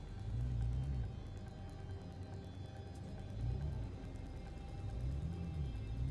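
Low storm rumble in the video game No Man's Sky, rolling in broad swells that rise, fade and return every few seconds, steady and fairly loud beneath a faint hiss.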